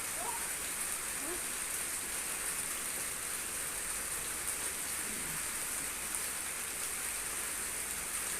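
Heavy rain pouring during a storm, a steady, dense hiss of falling water that fills the whole clip without letup, close and loud.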